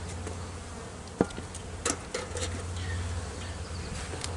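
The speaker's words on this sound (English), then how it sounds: "there's a lot of bees under there" Honey bees buzz around a beehive in a steady, fairly faint drone, broken by a few light knocks and taps from handling the hive.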